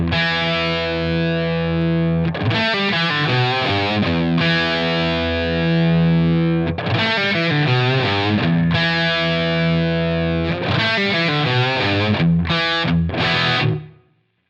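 Electric guitar run through the Cosmos Echo delay model on a Line 6 Helix, with dry through switched off, playing sustained distorted chords and phrases with repeating echo tails, loud and continuous, cutting off abruptly at the end.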